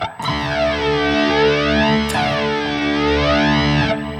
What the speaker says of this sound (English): if you want to have this jet flanging effect